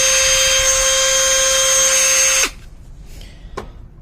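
A Dremel 8220 brushed 12V cordless rotary tool whines at full speed in a loud, steady high-pitched tone, then switches off abruptly and spins down, followed by a brief clack.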